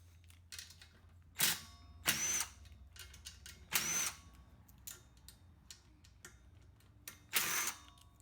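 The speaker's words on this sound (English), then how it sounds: "Get my 8mm socket out here, and we'll get this valve cover off." Hand tools working on the valve cover of a Predator Ghost 212cc kart racing engine during a teardown, with several short, loud bursts of ratcheting or whirring spread apart by quiet gaps on a bench.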